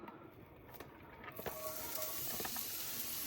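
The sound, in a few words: onions sauteing in lard in a skillet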